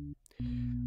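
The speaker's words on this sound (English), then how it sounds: "So here you get a simple sine wave." A simple sine wave synth tone plays from FL Studio, a low steady note that briefly cuts out and then sounds again, clean and sustained.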